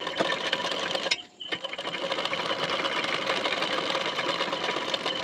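A sewing machine runs steadily, stitching a folded waistband strip at a two-thread gap, its motor whirring loud and continuous with one brief pause near the start.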